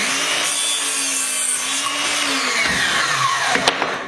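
A saw cuts through a wooden workpiece with a steady, continuous buzzing drone that runs close and loud throughout, ending in a few sharp knocks as the cut finishes.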